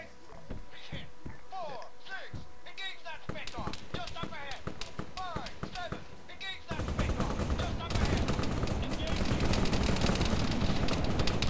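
Rapid bursts of gunfire crackle through a busy Arma 3 game soundscape, sharp repeated shots giving way to a dense, continuous roar of noise.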